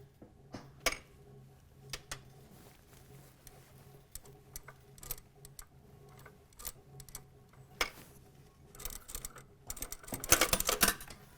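A sewing machine works slowly through a vest neck seam into plastic, giving sparse irregular clicks and ticks that end in a short burst of rapid stitching, close and fairly quiet.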